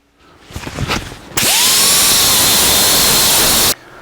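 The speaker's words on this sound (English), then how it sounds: "grind this powder off so that we can weld to it" An angle grinder strips powder coating off a metal bracket for a 1949 Chevrolet gasser's electric fan mount, starting after a few clunks and then holding a loud, steady whine for over two seconds before cutting off.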